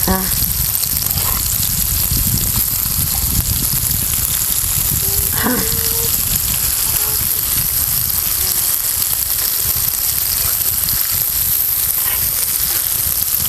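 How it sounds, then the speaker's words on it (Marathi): Fish frying in hot oil for a crispy home-style fry, a steady close crackle and sizzle that runs throughout with a few faint clinks over it. "आता आपण हे चांगलं असं तळून घेऊया"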